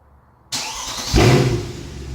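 A Mercedes W204 C63 facelift (2012 or later) fires up by remote start: abrupt silence, then a close crank that catches into a loud, rising rumble before settling into a steady idle.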